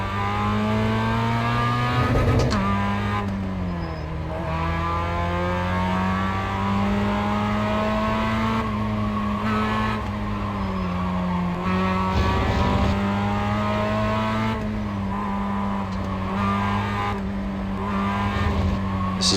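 Race car engine in the iRacing sim, droning continuously at high revs with rising and falling pitch through gear changes and corners, loud and close throughout.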